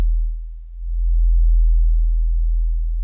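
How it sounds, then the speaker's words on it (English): A pure sub-bass rumble below 40 hertz drones loud and steady for about three seconds, swelling slightly after a brief dip, with nothing else heard. "it's just basically pure rumble"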